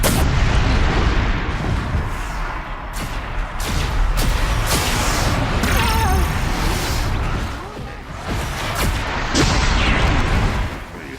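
A Shell-Walker machine in Horizon Zero Dawn fires in a loud barrage of booming, crackling shots and bursts, dense and continuous over the whole stretch with brief dips.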